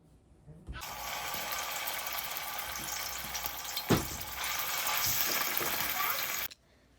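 Loud, steady sizzling of ground masala for an eggplant curry frying in hot oil fills the clip, starting abruptly and cutting off near the end, with a brief clatter midway.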